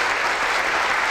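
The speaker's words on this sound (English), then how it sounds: "Please, studio audience, please restrain from applause until the debate is over." A studio audience at a live talk show bursts into loud, close applause that stays thick and constant throughout, then cuts off abruptly.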